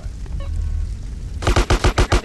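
Gunfire in Grand Theft Auto San Andreas: after a stretch of muffled game noise, five loud, evenly spaced shots ring out in rapid succession.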